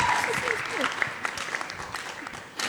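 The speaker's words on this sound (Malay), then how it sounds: "Satu tepukan gemuruh sekali lagi untuk UTM" The audience at a university debate show gives the winning team, Universiti Teknologi Malaysia, a round of applause. Loud, sustained clapping from the crowd fills the moment while a host's voice speaks over it.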